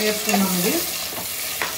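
Curry leaves, green chillies and onions sizzle in hot oil for boti curry, a short, close burst of steady frying hiss with a person talking briefly over it.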